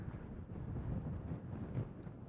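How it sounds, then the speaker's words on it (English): Steady low rumbling wind buffeting the microphone at a high, exposed spot beside a lonely highway, continuous and loud throughout with no voices. "Sorry about the wind noise, but it is windy up here."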